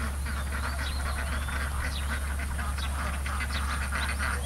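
Several ducks quack in scattered bursts over a steady low hum and busy background noise, with Thai voices faint in the mix, likely at a rural pond in Nakhon Nayok where ducks are heading into the water.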